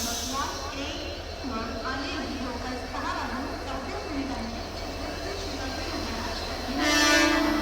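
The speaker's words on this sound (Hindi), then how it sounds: "क्या बात है, डीजल लोकोमोटिव के साथ ट्रेन आई है।" A train pulled by a WDP 4D diesel locomotive of the Kalyan shed arrives on Indian Railways, with a steady rumbling roar of rolling wagons throughout, a brief horn-like tone near the end, and talk over it.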